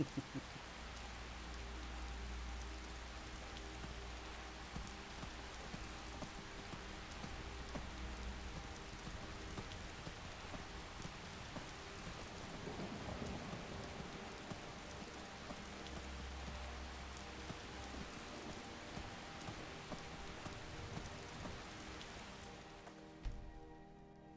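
Steady rain pours throughout in the video game Skyrim, a dense, even wash with no clear thunder, holding constant before cutting off at the very end.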